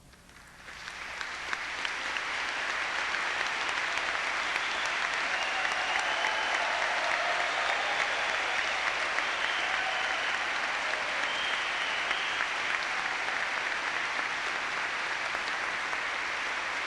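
Sustained applause from a large audience at a college commencement ceremony, building quickly and holding steady and loud throughout.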